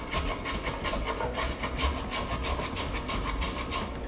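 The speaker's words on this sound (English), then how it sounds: "this is more or less sanding. I mean, it's a rough sand" A small wooden oar piece being rough-sanded by hand, a steady rasping scrub with rhythmic back-and-forth strokes, close and continuous.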